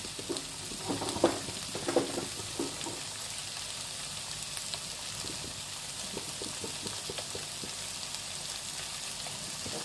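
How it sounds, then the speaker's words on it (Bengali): Onions sizzling and frying in a pan together with pressure-cooked ingredients, a steady soft crackle with occasional stirring scrapes and clinks, close and fairly quiet, with no voices. "পেঁয়াজের সঙ্গে এখন এটা আমি ভাজছি"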